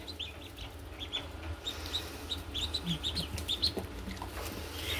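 Blue Runner ducklings chirping, high thin peeps repeating in quick, uneven bursts from several birds close by over a low background hum.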